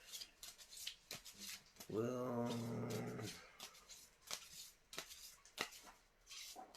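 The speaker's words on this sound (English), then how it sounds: "let me kind of shuffle these up" A romance tarot card deck being shuffled by hand, giving faint, scattered soft clicks and riffles with a brief sustained tonal sound partway through, quiet overall with a voice speaking briefly.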